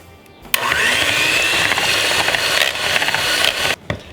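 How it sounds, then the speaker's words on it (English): Hand mixer whipping heavy cream in a large bowl, a loud, close, steady high whirr that switches on abruptly, holds for about three seconds with slight wavering, then cuts off. "We're going to mix it with a hand mixer or stand mixer"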